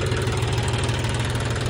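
A John Deere tractor engine idles steadily and continuously, a loud, even low rumble that holds without revving.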